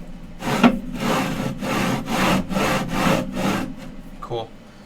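An Alfawise C10 CNC engraver runs with noisy, unworn metal bushings, giving a rhythmic series of raspy scraping strokes, about seven close, even passes, like sawing or filing.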